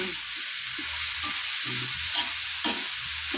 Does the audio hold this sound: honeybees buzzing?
no